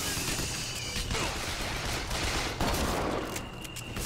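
Shotgun gunfire in Bioshock Infinite, a dense, loud barrage of blasts and combat noise running continuously throughout, with mechanical clatter mixed in.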